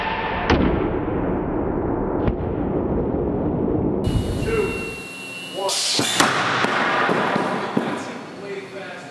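Impact test shot fired at a large Andersen window, a loud sudden burst with a sharp crack and rattling debris after a steady background rush, close and strong, with people talking around it.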